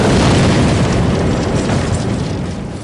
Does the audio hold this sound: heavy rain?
no